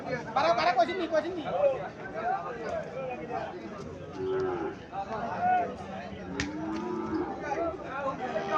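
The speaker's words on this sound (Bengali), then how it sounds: "সাইওয়াল জাতের বাছুর দেখা যাচ্ছে।" A Sahiwal calf at a cattle market in Chandimora, Comilla, lets out repeated moos amid other cattle, close and clear over a busy background of people talking and chattering.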